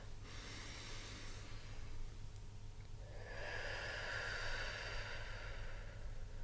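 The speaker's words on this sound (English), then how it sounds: "Middle breath." A medium-length breath taken during a singing warm-up, heard as a soft, steady airy hiss that swells partway through and carries on over low background hum, with no voices.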